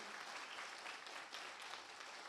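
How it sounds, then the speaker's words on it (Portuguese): Church congregation applauding for their pastors, a steady wash of many hands clapping at moderate distance throughout, with a faint murmur of voices underneath. "Vocês poderiam dar um aplauso de louvor e de oração a Deus pela vida deles?"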